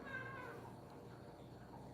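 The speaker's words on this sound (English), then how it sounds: "I hear you, kitty cat." A cat meows close by, one drawn-out plaintive cry that fades into quiet room noise.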